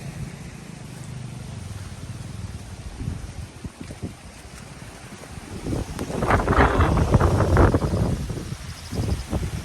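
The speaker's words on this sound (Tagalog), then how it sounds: "ito na naman yung malakas na hangin" Strong typhoon wind roars and buffets the microphone in gusts on a farm, swelling louder midway with rustling and rumbling, and no voices.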